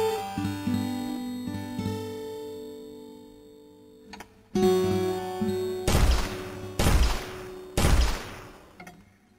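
Game weapon gunfire mixed with music, both routed through a shared audio bus effects chain in Unreal Engine 5.3, clean and processed; a steady tonal music bed, then four loud, sharp bursts of shots with reverberant tails.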